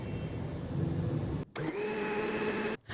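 A blender jug churns lassi into butter, giving a steady whirring motor drone with a rough, rumbling texture, close and fairly loud, cutting out briefly twice.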